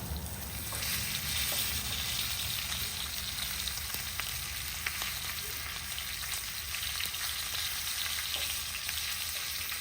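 Garlic-stuffed pork shoulder sears in a vintage Wagner No. 12 cast-iron skillet, a steady close hiss of frying fat with faint crackles and pops throughout.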